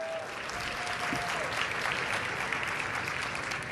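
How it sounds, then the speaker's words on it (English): An audience at the 2024 Susan B. Anthony Women of Influence Awards Dinner applauds in a dense, steady wash of clapping, fairly distant and even throughout. "That's right, we can applaud."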